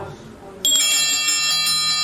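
Bright metallic bells start ringing abruptly and keep going loud and continuous over a lower music bed.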